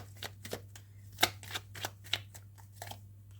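Tarot cards being shuffled and drawn by hand, a quick series of crisp snaps and papery flicks in an uneven rhythm, close and fairly quiet, with a steady low hum underneath and no talking.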